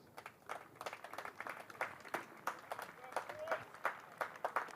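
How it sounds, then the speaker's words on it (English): Scattered cricket-crowd applause for Harry Kane's century at a county match, Derbyshire against Gloucestershire, sounds faint and distant as irregular claps patter steadily beneath a commentator's voice. "this applause will be for Harry Kane's century again"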